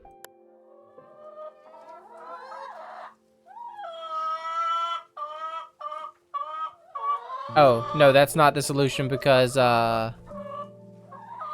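Bright, rhythmic hen clucks from the puzzle video game The Girl of Glass, a run of short close clucking calls that swell louder toward the end, with a player's voice talking in between.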